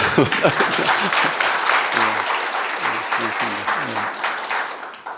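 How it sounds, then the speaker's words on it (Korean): Symposium attendees applaud in a steady wash of clapping while a voice speaks over it partway through, the applause fading toward the end. "네, 박수 한번."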